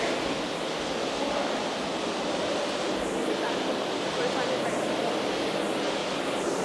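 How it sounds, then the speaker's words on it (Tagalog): Steady, loud broadband rush of falling water from a steep waterfall or stream, continuous and close throughout with no break, the surrounding hike's hillside setting implied only by the constant wash. "I can hear the water."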